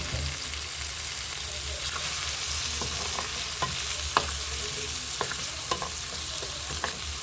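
Ground spices get stirred into food frying with green chillies in a pan. A steady low sizzle runs throughout, with scattered scraping clicks from the stirring and no talk.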